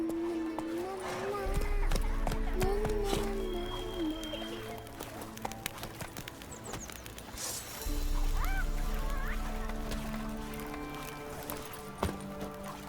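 Horse hooves clip-clop at a run in The Witcher 3, a steady rhythmic pounding that swells twice amid game music and voices, with bird-like honks nearby.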